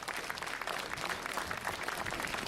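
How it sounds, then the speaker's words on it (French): Faint, steady applause from a crowd at a cycling race award ceremony in Granville, heard at a distance with an even, continuous texture. "Je vous demande d'applaudir l'ancien professionnel Guillaume Faucon."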